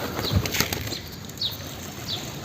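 A startled pigeon takes off and flies away, a brief burst of wing flaps near the start, then fainter flutters against outdoor background noise.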